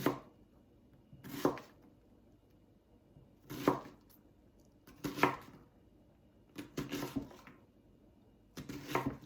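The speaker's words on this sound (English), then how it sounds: "I'll go ahead and chop up the other one" A knife chops Brussels sprouts on a cutting board in a home kitchen, with a few quick clusters of sharp chopping strikes separated by pauses, close and fairly loud against a quiet room.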